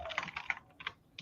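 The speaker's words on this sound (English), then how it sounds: "Excuse my loud keyboard" Fast bursts of clicky keystrokes on a loud computer keyboard, close and crisp, in short irregular clusters with brief pauses between them.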